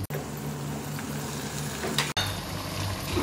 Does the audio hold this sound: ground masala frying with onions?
yes